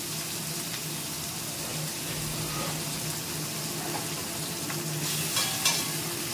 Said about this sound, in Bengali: এবার আমি মাছের তেলটা করে নেবো।